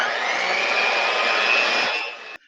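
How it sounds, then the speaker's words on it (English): A handheld mixer whirs steadily through waffle batter, a loud, continuous motor drone that holds for about two seconds and then cuts off abruptly. "So you just have a handheld mixer on this one"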